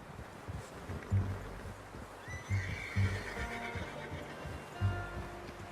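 A horse whinnies and snorts in Red Dead Redemption 2, with several short bursts over steady hoof clip-clop and a low ambient bed; no talk over it.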